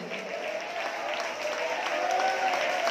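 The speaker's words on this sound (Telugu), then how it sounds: "చేతులెత్తి గట్టిగా చప్పట్లతో యేసయ్య స్తోత్రం" Congregation at a Sunday worship service in a church clapping hands together, a steady wash of applause filling the hall throughout, with a faint sustained tone running beneath it.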